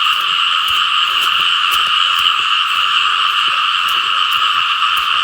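Frogs call nonstop from water at a frog-catching spot. The thick, close chorus stays loud and even from start to finish, with no voices over it.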